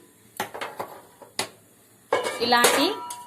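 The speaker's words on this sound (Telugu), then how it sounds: "ఇప్పుడు గ్యాస్ వెలిగించి ఖాళీ గిన్నె పెట్టుకుంటున్నానండి" An empty pot is set on a gas stove with a few sharp metallic clanks and knocks, followed by a voice talking close by.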